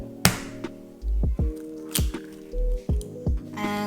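One egg plops into a bowl of hot cross bun dough ingredients, with several wet squishes and drips following in an irregular rhythm, close up and otherwise quiet.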